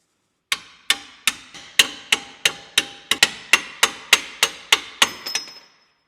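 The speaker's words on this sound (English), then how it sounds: "Just go get the hammer, pound these out." About fourteen sharp metal hammer blows pound out suspension control arm parts on a Subaru STI hatchback, striking in a steady rhythm, ringing briefly after each hit, close and loud with no talking.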